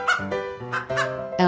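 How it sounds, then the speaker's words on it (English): A chicken gives a short run of three or four loud, close, squawking fowl calls in quick bursts, with no talking. "Chicken."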